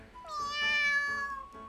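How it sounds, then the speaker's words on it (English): In a video game, a cat under a bench gives a single clear, drawn-out meow, close and moderately loud, rising and then trailing off against a quiet background. "I hear a little meow from below me."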